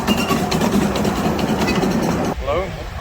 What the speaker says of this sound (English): there's also this adorable tiny train